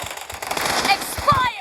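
Bursts of gunfire from the PUBG Mobile video game crackle in short, close volleys, with a voice talking faintly through parts of them.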